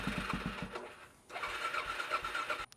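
A Suzuki DRZ440SM motorcycle engine cranks with a rapid chugging starter rhythm, pauses briefly, then cranks again and catches into a rough, close running burble before cutting off.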